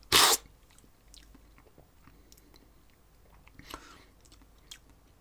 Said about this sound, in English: there's going to be a little slurping here